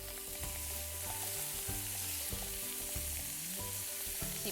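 Fish fries in plenty of butter in a pan for a shore lunch, a soft steady sizzle with occasional light scrapes and shifts as the pieces are moved around, no talking.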